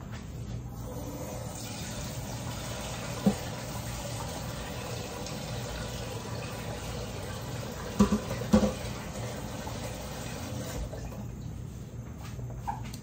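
Tap water streams steadily into a cooking pot in a home kitchen, filling it for boiling ground provisions and dumplings for a Jamaican meal; a constant rushing flow with a few faint clinks partway through.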